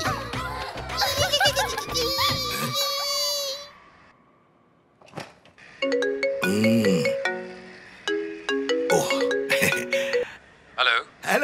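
A mobile phone ringtone for an incoming call plays a bright, repeating electronic melody that comes in loud and close, following a stretch of lively voices and laughter.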